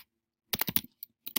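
Computer keyboard typing, a quick cluster of close, crisp key clicks followed by a few separate keystrokes after a short silence.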